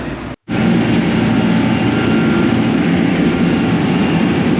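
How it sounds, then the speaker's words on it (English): A work boat's engine drones steadily and loudly after a brief cut at the start, a broad roaring hum with no change in pace. "It's the work boat going out this morning."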